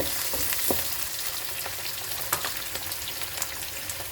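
Chopped onions and curry leaves frying in hot oil after mustard seeds have popped, for a ladies finger (okra) masala: a continuous soft sizzle with scattered crackles and sharp pops.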